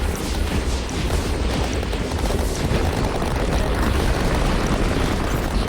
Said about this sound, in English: that bomb explosion actually saved me